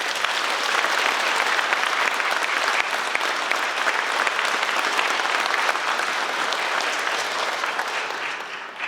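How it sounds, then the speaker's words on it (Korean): A congregation applauds the bishops at a thanksgiving Mass celebrating a bishop's hundredth birthday, sustained dense clapping from a large crowd filling a hall, steady throughout and fading slightly at the end. "우리 주교님들의 함께함에 큰 박수 부탁드립니다."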